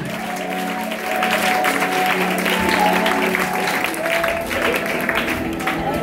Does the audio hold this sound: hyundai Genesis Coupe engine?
no